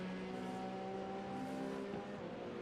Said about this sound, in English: brrrr. Car sounds nice.